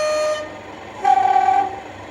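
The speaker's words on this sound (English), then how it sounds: "this is the horn on the other end, which I think is the number 1 end" Accurascale Class 37/6 model diesel locomotive sounding the horn at its number 1 end, opposite the cooling fan: a faint tone fades out, then a brief, louder two-tone blast rings for about half a second over a low hum.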